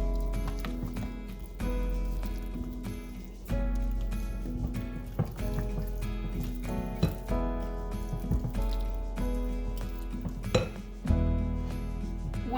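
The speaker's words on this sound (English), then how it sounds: "I will just stir all this up and make sure all those white baking chips have melted" White baking chips stirred into heavy whipping cream in a pot, the spoon scraping and clinking against the pan in steady repeated strokes, close and fairly loud over a low background hum.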